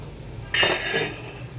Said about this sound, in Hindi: एक चम्मच की मदद से मैं इस तरह से पूरी ट्रे में जो है बैटर को सेट कर लूँगी